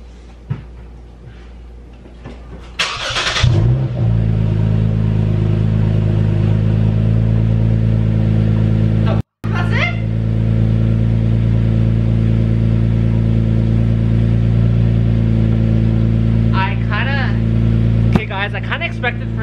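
Lexus IS 350 F Sport with a newly fitted exhaust starts with a brief crank, then settles into a loud, steady idle with a short break partway through. Someone talks over the engine near the start and end.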